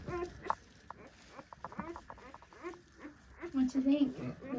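Young puppies on a homestead whimper and squeal in short high yelps scattered across the moment, close by, mixed with people talking softly to a child nearby.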